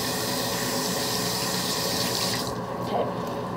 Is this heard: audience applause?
no